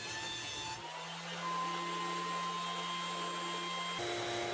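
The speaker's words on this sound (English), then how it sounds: "I ran each of the shelves through the planer" A loud power thickness planer runs with a steady high whine, its pitch dropping and droning as a wooden shelf board feeds through, then rising again at the end.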